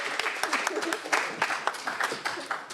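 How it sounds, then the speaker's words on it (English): A crowd applauds someone speaker at a conference, a steady patter of many hands clapping at moderate volume, continuous and fairly close for the whole stretch with no talk over it. "I want us to give another round of applause for this amazing woman"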